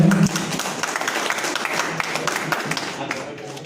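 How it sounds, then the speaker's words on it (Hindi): Audience applause at a clean family stand-up comedy show in Burari, Delhi: a dense, steady wash of clapping from a crowd, loud at first and easing slightly toward the end, with a brief voice near the start. "जोरदार तालियां हो जाए"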